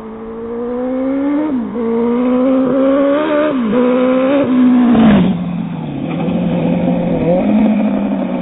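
Turbocharged Suzuki Bandit motorcycle engine revving hard near the microphone, with repeated rising throttle blips, then a deeper, rougher surge and drop-off, loud and continuous with no talking.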